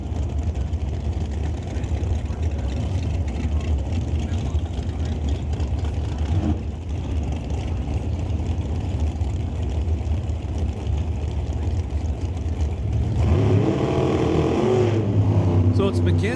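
Two 1957 Corvette Roadsters at a drag strip during an NHRA Northwest National Open Series event rumble near the starting line, then rev sharply as they launch near the end, with continuous engine noise under a race announcer's commentary.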